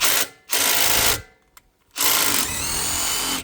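A power tool whirs in bursts while removing the two 14 mm control arm bolts from a Yamaha G2 golf cart, loud and close: two short runs, a pause with a faint click, then a long sustained run.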